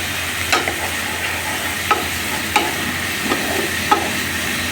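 Cumin and coriander masala frying in a pan for dal, a continuous close sizzle broken by a few regular utensil taps and scrapes, with no talking.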